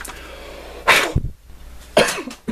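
Two sharp, close coughs about a second apart from a person indoors, each a forceful burst with a short breath between, no talk.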